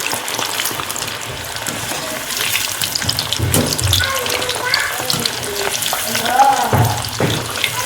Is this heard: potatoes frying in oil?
yes